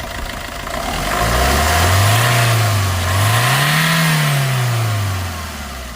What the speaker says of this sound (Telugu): ఒకసారి ఎక్సలేటర్ మామా